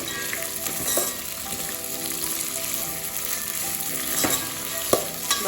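Mixed vegetables and mint frying in a pot for vegetable biryani, a loud close sizzle with repeated spoon scrapes and a few sharp clinks.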